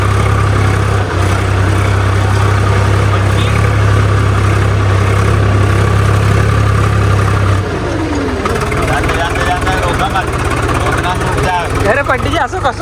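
A Swaraj tractor engine idles on a farm with a steady, loud low throb that holds for about eight seconds before its tone shifts, while people talk over it.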